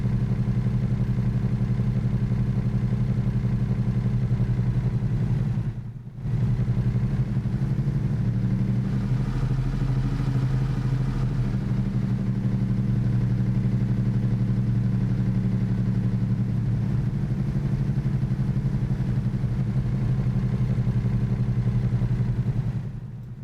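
A Peterbilt 579 truck engine plays as a steady, loud, low droning rumble that runs almost unbroken for over twenty seconds, with one brief dropout near the start and no voices.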